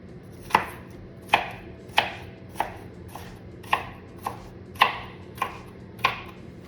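A knife chops onions on a cutting board in a home kitchen, about ten crisp, evenly spaced thuds close to the microphone with no talking.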